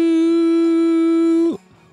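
A podcast segment jingle imitates a train pulling in with a single bright, steady whistle-like tone held for about a second and a half before it drops away.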